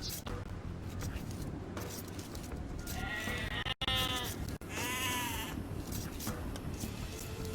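Several sheep bleat in the video game Age of Empires 2 Definitive Edition over a steady, noisy background, with a couple of sharp clicks between the calls.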